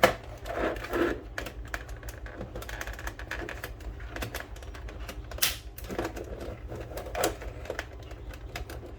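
Plastic casing of a Ford Focus instrument cluster being pried open, giving a run of small close clicks, creaks and snaps that come in irregular bursts over a low steady hum.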